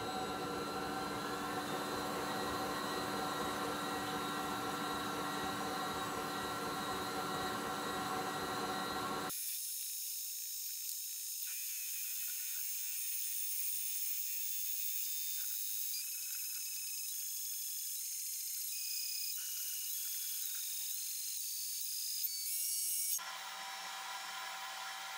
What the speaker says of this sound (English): the laser cut clean through at nearly 2000 millimeters